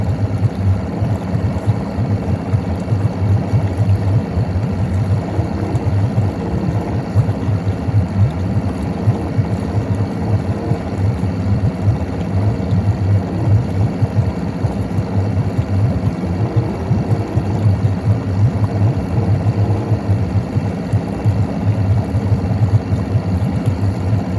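A boat outboard engine runs steadily throughout while it winterizes itself from its onboard oil tank. It makes a loud, close, even idling drone with a low rumbling pulse and no pauses.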